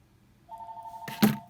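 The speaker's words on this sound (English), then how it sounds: "Oh, now the phone's ringing." A telephone rings indoors, with a steady electronic tone followed by a louder burst, fairly close and alone with no talk.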